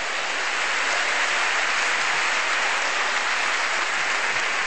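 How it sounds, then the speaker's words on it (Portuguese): A church congregation applauds in praise, producing a dense, loud, steady wash of clapping that holds unbroken from start to finish with no voices on top. "Pode aplaudir o Senhor mesmo, glória a Deus."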